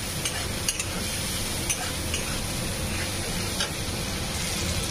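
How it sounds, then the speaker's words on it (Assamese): Spice paste (masala) frying in a wok for potato and pointed gourd curry, a steady close sizzle with intermittent scraping and stirring clicks throughout, no voices. "মছলাখিনি মই ধুনীয়াকৈ ভাজি ল'ম।"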